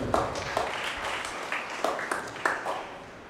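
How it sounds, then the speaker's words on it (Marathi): Applause from the audience at a farewell ceremony after a church Mass, a fairly faint spatter of clapping with a few sharper claps standing out over about three seconds. "जोरदार टाळ्या वाजवूया"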